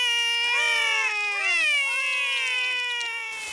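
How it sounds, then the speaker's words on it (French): Two cartoon kittens meow in a quick run of high, bending, voiced mews, close and clear with short pauses between calls, fading slightly toward the end. "Ces deux chatons-là sont Holly et Fleur."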